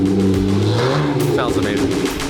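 A Nissan GT-R with a 1300hp Gintani-built engine revs up nearby, its loud engine note rising and falling briefly while people talk over it.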